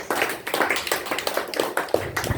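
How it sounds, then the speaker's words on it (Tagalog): A church congregation claps during a Sunday service, a brisk run of rhythmic hand claps, fairly close and loud, with little talk over it. "Palakpak muna sa ating Panginoon Diyos."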